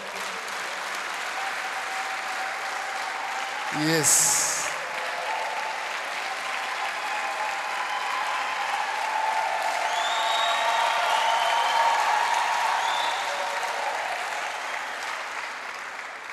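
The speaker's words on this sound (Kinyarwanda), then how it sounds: "Dukomere Imana amashyi" A church congregation applauds in praise of God, a steady wash of clapping from many hands that swells and fades over time, with a brief shout from one voice early on.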